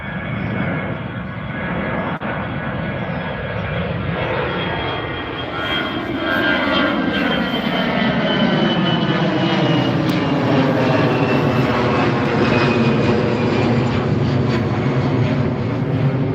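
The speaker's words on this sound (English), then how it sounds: "Air China's taxiing." Air China Airbus A350 airliner taxiing at London Gatwick, a loud steady jet engine roar with a whining tone that slowly shifts in pitch as it passes nearby.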